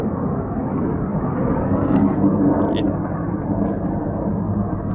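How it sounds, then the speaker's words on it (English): Fighter jets fly overhead at an air show, a broad continuous roar that swells slightly near the middle and holds steady throughout the clip. "I love seeing the jets fly."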